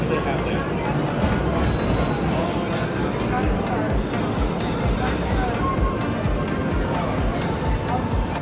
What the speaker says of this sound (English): Monorail, the first monorail is loaded up.